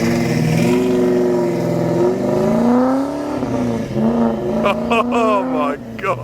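A Ford XY Falcon GTHO Phase 3 replica revving and accelerating away, its engine note climbing in pitch, loud and close, with a voice speaking over it near the end.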